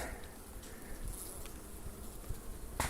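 Honeybees buzzing in an open heated hive, a faint, continuous, soft hum with light rustling and a brief knock near the end.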